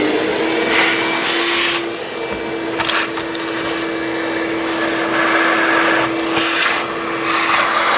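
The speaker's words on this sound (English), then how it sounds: "We're going to go ahead and use a vacuum to do so." Vacuum cleaner sucks debris from the battery tray of a 2013-2019 Ford Interceptor Utility, a steady close whine with a constant tone, its airflow roar rising and dipping as the nozzle moves around the tray.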